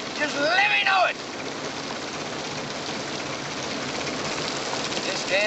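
Steady heavy rain in a scene from the 1967 film Cool Hand Luke pours as a continuous wash of hiss, with a short voice near the start and again at the end.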